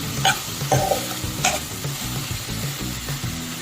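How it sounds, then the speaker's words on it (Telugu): Ginger garlic paste frying in a pan, a close, loud sizzle with a few sharp spoon clinks early on and brisk stirring scrapes throughout, no voices. "మేమైతే అల్లం వెల్లుల్లి పేస్ట్ వేస్తాను"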